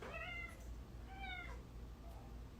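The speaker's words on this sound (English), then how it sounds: "Hold on, my cat's want to come inside." A domestic cat meows twice up close to be let inside, each call drawn out and clear over a low room hum, with a short pause between them.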